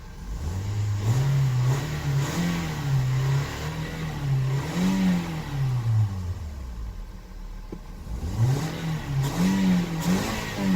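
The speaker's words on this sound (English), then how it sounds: "Well, I got the engine running here. Nice, and no misfire, no nothing." Engine of a 2009 Toyota Corolla idling smoothly after a hot restart, a steady close rumble that rises and falls in pitch with a few gentle revs, continuous throughout with no talk.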